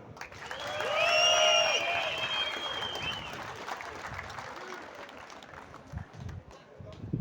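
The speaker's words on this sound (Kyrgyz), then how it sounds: "чүйлүк досторго бир кол чабуулар" Crowd applause at the opening ceremony of a 1985-born friendship and unity games in Osh, cheering guests from Chuy; the clapping swells loud early and fades, with shouting and voices mixed in.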